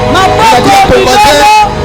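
A church congregation cheers and shouts in acclaim, a loud, dense crowd roar of overlapping voices with rising cries, close and continuous throughout.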